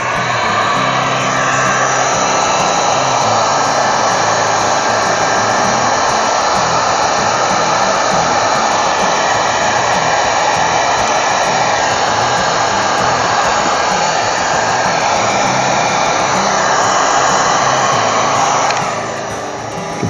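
A heat gun warming vinyl wrap on a BMW motorcycle blows with a loud, steady roaring hiss that holds continuously and very close for about twenty seconds, then drops away at the very end.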